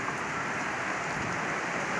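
Heavy night rain during a thunderstorm pours down in a dense, steady hiss with no breaks, loud and close throughout.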